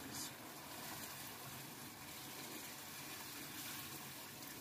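Water added to a pan of fried chicken and potatoes: a soft, steady hiss and gush that continues unbroken throughout and stays quiet.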